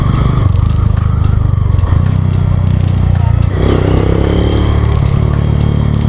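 Traffic on a roadside near a parked Karizma-R motorcycle, with steady engine rumble and revving as motorcycles and cars pass close by, a continuous loud drone with small surges.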